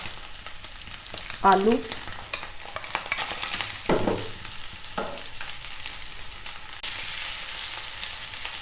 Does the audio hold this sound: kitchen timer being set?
no